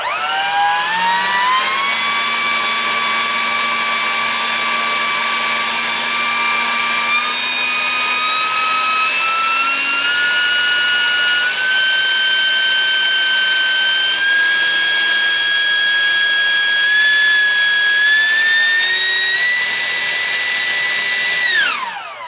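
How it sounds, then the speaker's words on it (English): A 64mm electric ducted fan motor in a Freewing F-105 Thunderchief RC jet spools up into a loud, steady, rising whine that climbs in pitch in stages, close and alone, then cuts off near the end. "quick little sound test to listen to what this motor actually sounds like"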